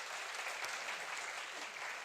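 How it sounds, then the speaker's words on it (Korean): A church congregation at a Sunday worship service breaks into steady, dense applause, a continuous wash of clapping heard alone for a couple of seconds. "오늘 영접한 우리 친구들 위해서 한번 박수 한번 치겠습니다."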